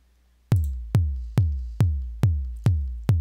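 A simple steady four-on-the-floor beat programmed in LMMS: punchy bass-heavy kick drums strike at an even tempo, seven hits in a row after a brief silence.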